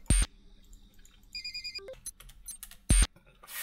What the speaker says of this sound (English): The phone is calling again.